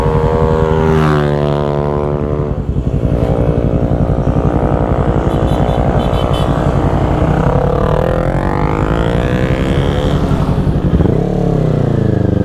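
A motorcycle ridden on the Marilaque mountain road: a loud, close engine drone that rises and falls in pitch as the rider revs and shifts, continuing throughout without speech.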